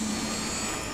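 A helicopter engine in the military video game Project Reality gives off a steady, loud turbine drone with a constant low hum, unbroken for the whole moment and with no voices over it.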